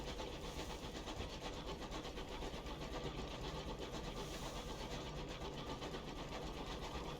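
A steady mechanical chugging rumble of a video game steam engine runs continuously with a fast, even pulse, like an engine working at a constant pace, with no talk.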